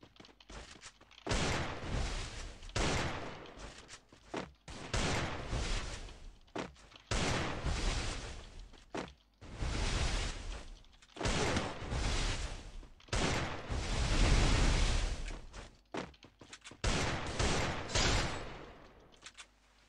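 Bursts of gunfire from a 1v1 shooting video game match come in repeated volleys a second or two long, separated by short pauses, loud and close with no talking.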